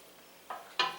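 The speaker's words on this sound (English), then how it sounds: "So you gotta stir it up" A spoon scrapes twice through dry split peas in a pot, two short gritty swishes, the second louder, over a quiet kitchen background.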